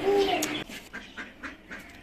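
Ducks quack repeatedly nearby, a series of short raspy calls in a loose rhythm following a brief higher whistle-like call.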